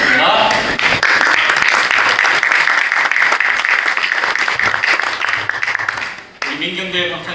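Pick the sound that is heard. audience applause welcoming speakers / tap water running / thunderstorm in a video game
audience applause welcoming speakers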